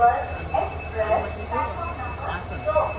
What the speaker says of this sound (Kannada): ಇಲ್ಲಿ ಹಿಂದೆ ಕಾಣ್ತಿರ್ಬೇಕು ಟ್ರೈನ್